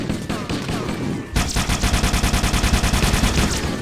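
Automatic gunfire from the Covenant-fighting action of the video game Halo: Combat Evolved, starting with scattered shots, then a fast, steady rapid-fire burst of evenly spaced loud reports lasting several seconds with no talk over it.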